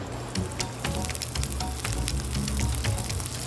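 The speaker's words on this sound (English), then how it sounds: "then I'm gonna go ahead and sear the scallops." Scallops sear in a hot pan with a steady crackling sizzle and frequent sharp pops, close and fairly loud, with no talking.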